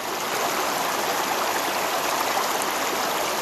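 Water rushing and bubbling steadily through a gold trap sluice box with fluidization inside, a loud, even, broadband flow that continues unbroken without voices.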